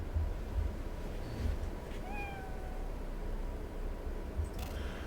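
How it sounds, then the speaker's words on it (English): A cat in the Cyberpunk 2077 video game meows a couple of times, rising and drawn out, over a steady low ambient hum of the game world. "Oh, there's the kitty!"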